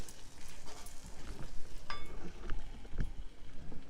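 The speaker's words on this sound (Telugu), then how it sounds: "మూత పెట్టి ఒక 5 నిమిషాలు బాగా వేగనివ్వాలి." Egg kurma masala cooks in a pan with a soft, uneven sizzle and occasional light pops and stirring clinks, quiet and close.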